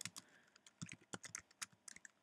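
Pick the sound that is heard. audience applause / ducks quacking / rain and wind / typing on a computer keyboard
typing on a computer keyboard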